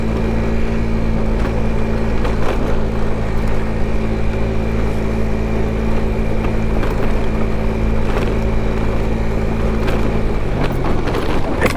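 Low engine drone and wind rush from a GY6 50cc Boom PYT Revolution scooter riding over a rough canal bank, steady and loud throughout with bumps and a shift near the end.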